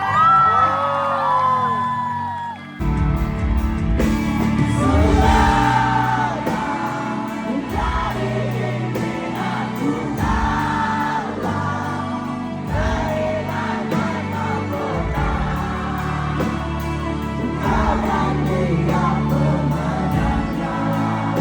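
A large concert crowd at Zepp KL cheers, whoops and shouts over loud music, with voices rising and falling in waves throughout.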